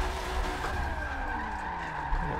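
A car in a racing sim game drifts sideways with roughly 800 to 900 horsepower in third gear, tires skidding in a steady squealing screech over the engine drone, close and loud.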